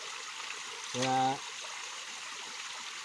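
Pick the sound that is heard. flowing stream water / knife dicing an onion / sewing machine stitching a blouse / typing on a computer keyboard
flowing stream water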